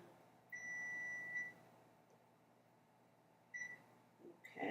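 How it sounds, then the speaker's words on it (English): Electronic oven beeps while preheating to 350 degrees: one long sustained tone, then two short beeps later, over quiet background hum. "the oven is beeping"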